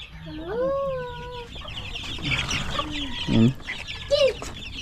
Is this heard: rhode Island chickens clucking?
yes